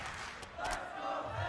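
A crowd at an esports Call of Duty League Major event roars and cheers for Vegas Legion. The swell is loud and sustained, and the noise rises in bursts.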